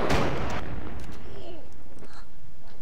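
A single heavy gunshot booms at the very start in the tactical shooter game Project Reality, then rolls away into a long echoing decay.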